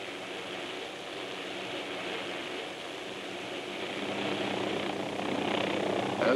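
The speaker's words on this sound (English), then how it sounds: "As we watch a maximum performance takeoff, we can readily see that the maneuver differs from normal takeoff only in the fact that a gain in altitude is favored" An OH-6 helicopter makes a maximum performance takeoff. Its engine and rotor roar in a steady broadband rush that swells toward the end as power comes up. The sound is loud and continuous, with no talking.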